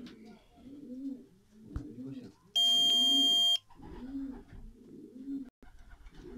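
Young racing pigeons returning home from a race coo in repeated soft rounded phrases nearby, while a brief electronic beep tone sounds once in the middle.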